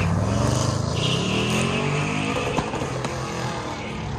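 A Chevrolet Blazer with a twin-turbo 5.3-liter LT V8 races an autocross course at a car show event, the engine roaring loud and close, its pitch sweeping as it revs and shifts, with a few sharp clacks late on.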